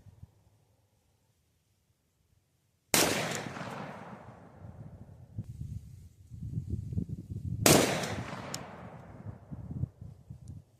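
Two loud, sharp rifle shots from a Savage 110 in .308 with a muzzle brake, fired at a range several seconds apart after near silence, each followed by a rolling echo and lingering outdoor rumble.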